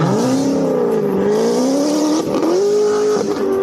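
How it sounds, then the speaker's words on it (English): A Corvette C7 engine roars loudly and steadily, its pitch rising and dipping as the car slides sideways with the back end kicking out, with brief tyre scrub in the second half and no talking. "This is a Corvette C7. Whoop, back end kicks out."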